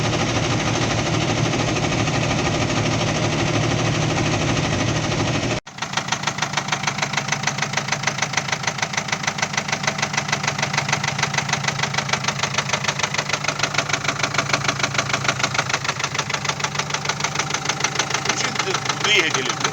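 A truck engine with a knocking fault runs steadily, producing a rapid, regular metallic knock throughout, near and loud, after an abrupt break partway through; a voice is faintly present.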